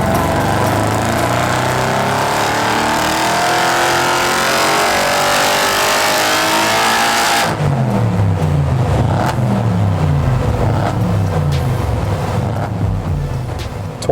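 Stage 3 tuned Audi RS6 at wide open throttle on a dyno, running about 2 bar of boost, roaring loud with a climbing pitch, then a sharp change midway into a new rising sweep.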